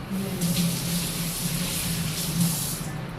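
Steady rushing hiss of tap water running over hands at a kitchen sink during potato and sago chakri preparation, continuous and fairly close for the whole stretch.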